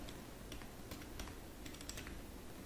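Typing on a computer keyboard while entering text into an online form, with a steady run of fast, close key clicks over a constant background hiss.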